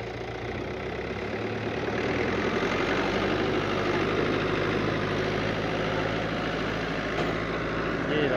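A Dabangg tractor engine runs steadily at idle, a continuous low mechanical rumble with a knocking texture, close and loud, holding an even level throughout with no talk.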